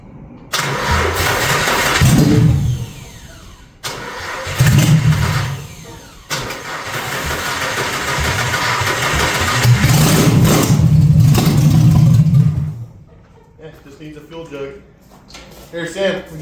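A car's engine cranks and catches on its first start after new headers and wiring, with several close, loud crank-and-fire attempts that rise to a rough rev before dropping to a quieter idle, while voices talk over it.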